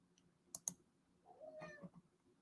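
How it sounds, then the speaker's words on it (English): Two sharp clicks, then a single soft cat meow nearby, brief and quiet. "That's my cat, Mink."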